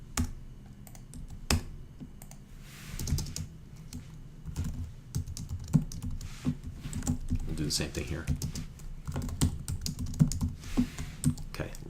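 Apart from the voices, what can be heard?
typing code on a computer keyboard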